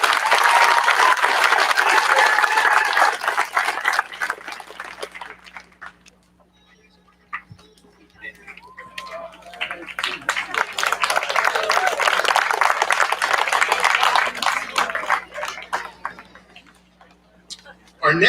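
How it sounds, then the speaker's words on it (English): A school audience at an 8th grade promotion ceremony applauds the valedictorians, loud dense clapping for about five seconds, a brief lull, then a second long swell of applause with whoops until the end. "Let's give one last round of applause to our valedictorians."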